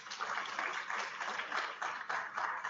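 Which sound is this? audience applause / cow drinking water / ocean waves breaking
audience applause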